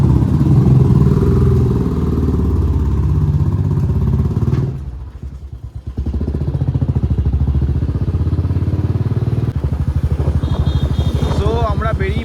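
A motorcycle engine idles and runs steadily just after being started, a loud, close rumble. It dips briefly in the middle, and a voice speaks toward the end.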